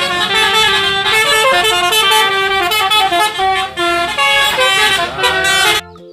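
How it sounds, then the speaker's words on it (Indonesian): A loud Tayo toy bus 'telolet' horn plays a rapid melodic tune of tooting notes for several seconds, then cuts off abruptly. "di sini ada bus telolet"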